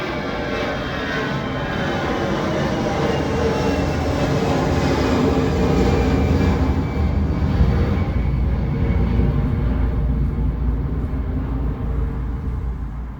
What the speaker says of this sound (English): the exact position of an airplane as it passes by, from taking off to flying directly overhead